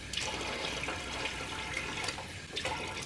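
Water runs into a can to rinse out leftover sauce, a close, steady splashing and trickling with small gurgling bursts throughout.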